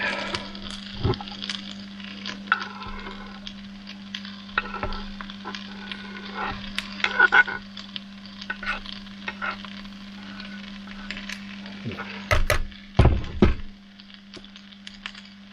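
A quarter of an onion fries in a pan inside a van on a late-November evening, with intermittent spatula scrapes and soft sizzling over a steady low hum, ending in a louder burst of stirring.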